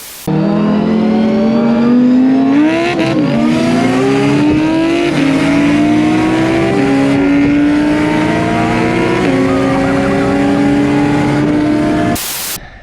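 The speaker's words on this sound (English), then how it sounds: "This beast right here, 600 horsepower GTR. Let's get this going, huh?" A 600-horsepower Nissan R32 GTR circuit car revs loudly and close by, its engine note climbing and dipping through repeated throttle blips in one continuous roar.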